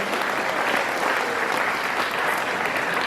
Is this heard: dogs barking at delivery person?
no